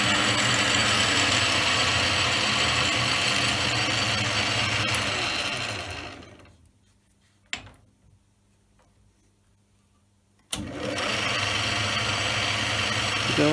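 A Raglan Little John Mk2 lathe runs steadily at higher speed with a dense mechanical whir and hum, then spins down into near silence broken by a couple of sharp clicks before the motor starts up again.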